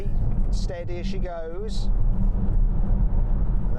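A Citroen C5 Aircross pulls away slowly with a steady low engine rumble that builds slightly, under a man's speech at the start of the stretch.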